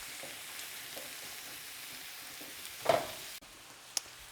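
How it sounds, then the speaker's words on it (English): Zucchini and garlic sauté in a pan with a low, steady sizzle, briefly stirred with a scrape and clatter near the end before the frying quiets slightly. "So you just want to stir everything to incorporate it evenly."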